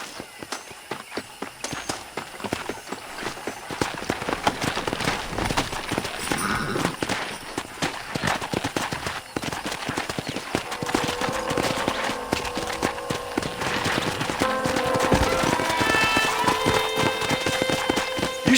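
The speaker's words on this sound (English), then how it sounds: "Let's see if we can't wrangle some horses." Horses gallop in the video game Red Dead Redemption with a rapid, steady clip-clop of hooves, loud and close, while music and other game sounds swell in the background.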